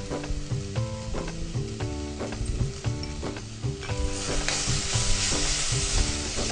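Onion with chilli powder, coriander powder and cumin powder frying in a pan for mixed vegetable cutlets, a bright continuous sizzle with rhythmic clinks of stirring, growing louder toward the end, no speech.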